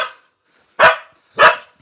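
A dog barks twice at a tribal farmer's home, two sharp, close, loud barks spaced about half a second apart, with no talk.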